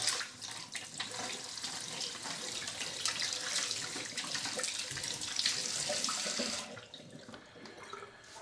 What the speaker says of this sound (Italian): Quindi pennello inumidito sotto l'acqua.